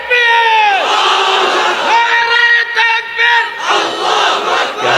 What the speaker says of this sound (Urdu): تم ہی لوگ اگر نعرے لگاؤ گے تو بولنے والا کیا بولے گا؟